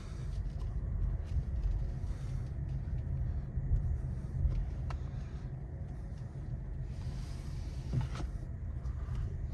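A 2024 Honda CR-V Sport Touring hybrid drives and turns, heard from inside the cabin as a low, steady rumble of road and tire noise, faint and continuous.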